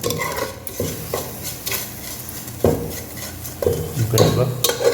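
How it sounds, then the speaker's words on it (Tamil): Goat spleen gravy being stirred in oil in a pan, a utensil scraping repeatedly with soft sizzling underneath, close and fairly steady with periodic stronger strokes. "அப்புறம் ஆயிலில் மிக்ஸ் பண்ணிடுறோம்"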